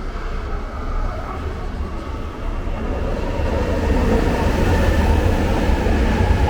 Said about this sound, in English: Those are the trains.